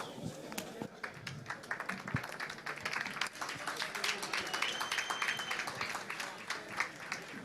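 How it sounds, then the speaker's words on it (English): Audience applause at a Binance Greek community meetup in Athens, a moderate spread of scattered hand claps from a crowd, somewhat distant and uneven. "Very big applause to our special guest"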